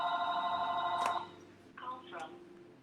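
A home telephone rings at close range with a loud electronic bell tone that cuts off, then a fainter second ring follows against a quiet room.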